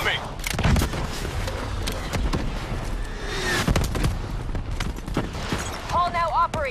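Heavy gunfire and explosions from the Call of Duty Black Ops 3 campaign, with repeated sharp shots and booms layered over a constant battle roar while voices talk throughout.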